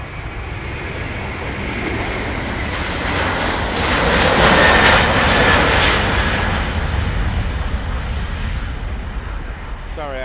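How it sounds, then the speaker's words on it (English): A KLM Airbus A330 jet passes at Schiphol with a broad engine roar that swells to a peak midway and slowly fades, heard continuously over the whole stretch. "We have KLM's Airbus A330."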